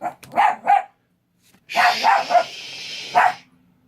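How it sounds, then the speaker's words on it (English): A dog barks in sharp bursts, two quick barks and then a cluster of three or four more, close by and loud with short pauses between. "Sorry, my dog's there barking his head off."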